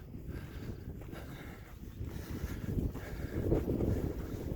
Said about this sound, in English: Sure feels good once I get up here in the wind.